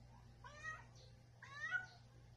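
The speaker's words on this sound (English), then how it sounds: "When the female cat in heat, this is what she will do." A female cat in heat meows twice in drawn-out, wavering calls, each about half a second long, close to the listener over a steady low hum.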